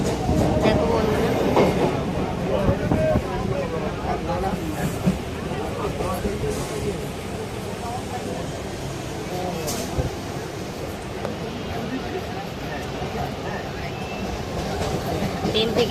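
A commuter train rolling toward Tollygunge fills the carriage with a continuous rumbling clatter and rattle of wheels and car body, steady throughout, with indistinct voices in the background.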